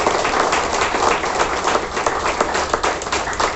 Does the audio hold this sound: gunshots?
no